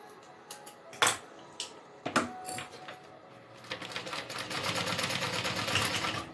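Sewing machine stitching a Denver backpack, scattered clicks and clatters at first, then a steady close whirring run of stitching toward the end.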